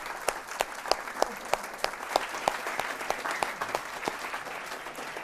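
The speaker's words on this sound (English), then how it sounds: "Let's just give them a round of applause." Audience at a youth forum on innovation applauds steadily, a dense wash of many hands with sharper individual claps standing out, moderately loud and close, with no talk over it.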